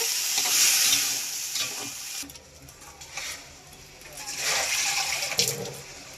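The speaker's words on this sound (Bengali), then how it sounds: "এইবার আমি সিদ্ধ করে রাখা ঘুগনি মটর আর আলুগুলো দিয়ে দিচ্ছি ভালোভাবে কষিয়ে নেব" Boiled ghugni peas and potatoes sizzle in a pan as they are sautéed, with scraping stirs coming in uneven surges of frying noise, loud at first and again near the end.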